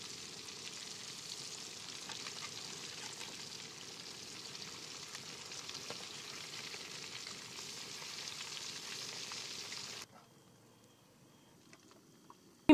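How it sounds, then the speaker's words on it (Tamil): Snakehead murrel fish frying in hot oil in a village kitchen, a steady close sizzle and crackle that continues evenly for several seconds, then cuts off abruptly into near silence. "எண்ணெயை சேர்த்துப்போம் மீனை பொரிக்கிறதுக்கு."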